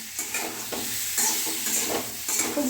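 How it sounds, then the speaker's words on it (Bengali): Sliced pointed gourd frying in a thin, worn kadai while being stirred often, giving a continuous sizzle broken by repeated scraping strokes of the spatula at a brisk rhythm, close and moderately loud. "ঘন ঘন না নাড়লে কড়াটা মানে খাবার দাবার পুড়ে যাবে খুব ঘন ঘন নাড়তে হচ্ছে"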